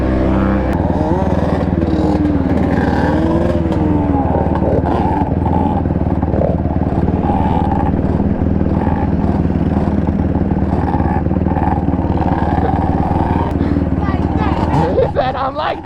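Yamaha Banshee two-stroke quads race nearby, a continuous buzzing, raspy engine drone with clatter and crowd chatter mixed throughout, loud and steady for the whole stretch.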